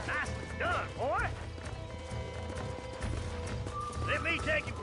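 Horse hooves clip-clop and a horse neighs repeatedly in the Western video game Red Dead Redemption, with whinnies near the start and again near the end over steady hoofbeats.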